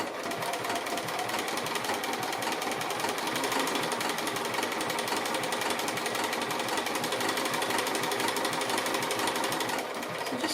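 A sewing machine stitches fabric appliqué for a quilt, a steady close mechanical whir with a rapid needle rhythm running continuously and alone, easing slightly in the final second.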